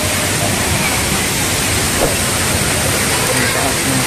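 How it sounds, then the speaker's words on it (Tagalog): The waterfall at Mt. Isarog Natural Park gives a loud, continuous, even rush of falling water that fills the whole scene, with no break or change. "Ang linis talaga, ang ganda ng falls oh."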